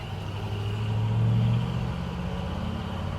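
A 1971 Chevrolet K-10 Cheyenne 4x4 pickup pulls away in second gear, its engine droning steadily and swelling briefly as it accelerates, then settling into an even rumble, heard close and with no talking.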